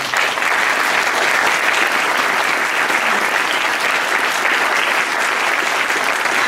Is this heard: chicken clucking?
no